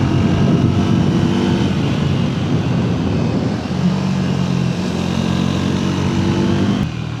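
A Triumph Tracker 400 motorcycle engine while riding, a loud, steady close drone with shifting pitch as the throttle eases and picks up, wind rush mixed in.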